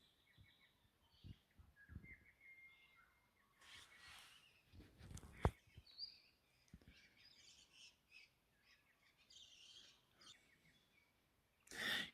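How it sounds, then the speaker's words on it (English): Birds chirp and tweet intermittently in a quiet outdoor space in Litchfield National Park, with soft rustling and footsteps nearby and a louder bird call near the end. "Can you hear the birds?"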